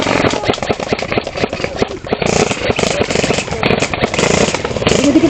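Rapid bursts of airsoft gunfire crackle nonstop through a milsim war game in Bulacan, dense and loud, with overlapping shots near and far and no clear gaps.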